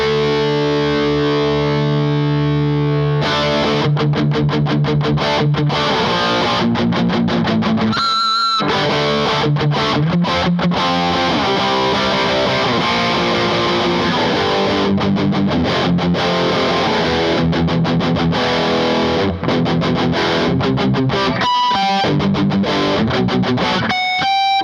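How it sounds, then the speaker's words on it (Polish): Distorted electric guitar through a Mensinger Mopped and a Hathor Custom Shop Model 42 Jazz Juicer pedal plays loud, sustained, saturated chords and riffs with brief gaps, after a short cleaner opening. "przester."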